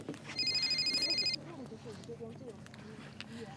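A telephone rings in a quick, pulsing burst for about a second near a group touring an area of restaurants and bars, with voices talking underneath and continuing after the ring stops.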